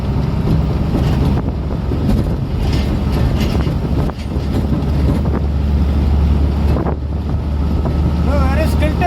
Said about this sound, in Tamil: எம்டி வண்டி ஓட்டுறதுக்கு முடியல தூக்கி தூக்கி தூக்கி போடுது